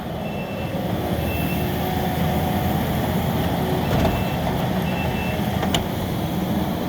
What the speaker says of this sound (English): That is one powerful skid steer.